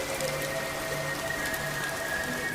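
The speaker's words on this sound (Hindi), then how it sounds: "उस रात बाहर हल्की सी बारिश हो रही" Light rain falls outside at night, a faint, steady patter with no talk.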